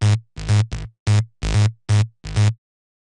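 An electro bass synth from Ableton Simpler is run through an audio effect rack with saturation and compression, playing a riff of seven thick, heavy bass notes with a fuller low end and smoother decays, loud and alone.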